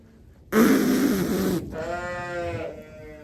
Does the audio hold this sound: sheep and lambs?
yes